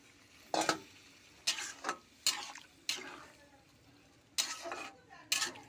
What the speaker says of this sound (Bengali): দিয়ে নাড়াচাড়া করে আমি চাপা দেবো।